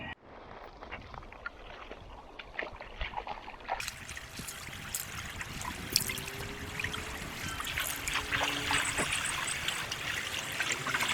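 River water trickles and flows steadily close by, quieter at first, then a fuller, louder rush of water that continues to the end with no voices.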